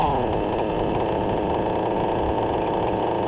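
A nitro RC truggy engine idles at a steady, loud, buzzing pitch close by, running continuously without pauses or voices.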